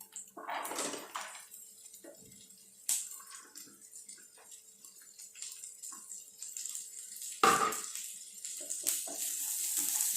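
Cumin seeds and green beans go into hot oil in a pan for Indian beans poriyal, with clinking of a utensil against the pan, a few sharp scraping strokes and quiet sizzling between them, close up with no talk.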